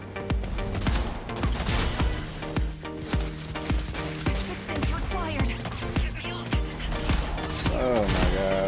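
Shotgun blasts in the video game Rogue Company, a string of sharp, loud booms at irregular intervals with other gunfire mixed in, heard under ongoing voices.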